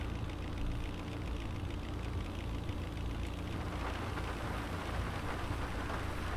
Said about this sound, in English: Let's make it rain.